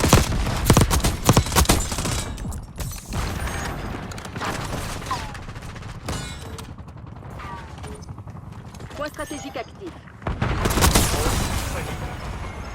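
Hand cannon gunfire in the Black Ops 6 video game, with a burst of rapid loud shots at the start, mechanical clatter and scattered bangs through the middle, and another heavy volley at the end, under an in-game voice announcement.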